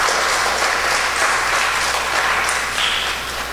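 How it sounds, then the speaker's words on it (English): Applause from an audience at an arts and culture festival preliminary, a steady, fairly loud wash of clapping that holds for a few seconds and eases slightly at the end. "So give yourselves a lusty round of applause."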